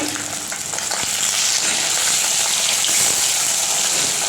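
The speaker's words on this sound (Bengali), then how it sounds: "এখানে মাছ ভাজাও অনেকটা হয়ে গেছে, আর এখনও রয়েছে।" Fish fries in oil in a pan, a loud continuous crackling sizzle that holds steady throughout with no talk.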